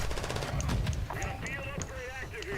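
A rapid burst of gunfire from the video game Warzone 2 rattles at the start, then short intermittent shots follow while a voice talks over them.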